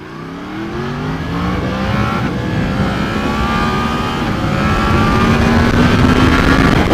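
A 2017 Yamaha MT-10 motorcycle engine revs loudly and steadily, its pitch climbing and sweeping in sustained surges close to the listener with no voices.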